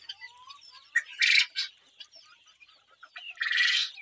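Fancy chickens kept alongside quail make soft, scattered clucks and chirps, with two brief louder bursts of flapping or squawking, fairly close and without talk.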